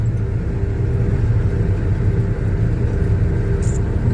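A wheat drill's motor, slowed down to stop its chattering, runs with a steady, loud, close rumble and a smooth whir, alone without any voices.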